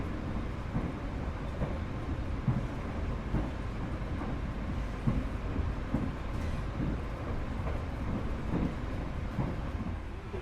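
A Majapahit economy-class train running on its rails, a continuous low rumble with rhythmic clunks from the wheels over track joints, heard from inside the carriage without talk.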